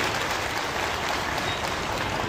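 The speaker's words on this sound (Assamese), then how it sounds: "সকলো এটা হাত চাপৰি দি মই ধন্যবাদ জনাবলৈ অনুৰোধ জনাইছোঁ" Audience applause at the Tiwa Pisak-Pisu (Tomasi) festival in Jonai, a dense, continuous wash of clapping from a crowd, steady and fairly loud with no voices standing out.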